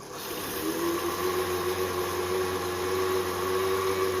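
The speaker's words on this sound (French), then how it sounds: "on va venir mixer, comme je vous ai dit, à faible vitesse." A blender whirs steadily at low speed, mixing a homemade Baileys-style cream liqueur with chocolate, a constant close motor hum with no talking.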